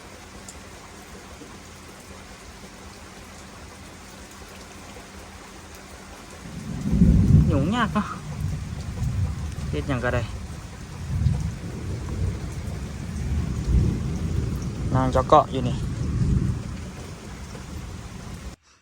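Heavy rain pours outdoors at a building site, its steady hiss swelling midway as deep thunder rumbles roll in several times, with people talking briefly underneath.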